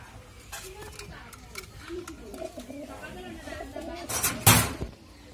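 Pigeons coo softly on a small farm kept with ducks, chickens and budgerigars, low murmuring calls beneath a person talking, with a sharp knock or slam near the end.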